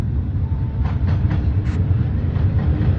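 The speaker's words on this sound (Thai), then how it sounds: "รถได้เวลาออกแล้ว จอดแป๊บเดียวแล้วก็พร้อมที่จะออกเลย" A suburban train moving out of a station on a Thai railway line, giving a steady low rumble with a few faint clacks over the wheels, continuous and fairly loud.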